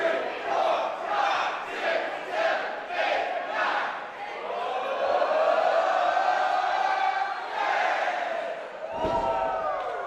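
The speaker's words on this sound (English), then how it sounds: "When the crowd's chanting and counting to 10" A wrestling arena crowd at an independent show chants in loud rhythmic bursts, then swells into a sustained roar, with a sharp ring slam near the end.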